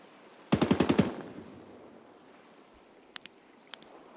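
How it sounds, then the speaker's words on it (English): A rapid burst of about six gunshots fired in quick succession, fairly loud with a short echoing tail, followed by a few faint distant sharp cracks against steady outdoor background noise. "are those shots for me?"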